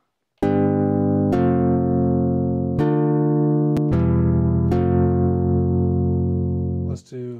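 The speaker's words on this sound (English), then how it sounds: "Okay, so we have a little strum happening just so it sounds a little bit more like a guitar." A Logic Pro Sculpture string synth patch driven by a Scripter guitar strummer plays several sustained, guitar-like strummed chords, each sharp attack ringing out loudly before the next, alone with no talk.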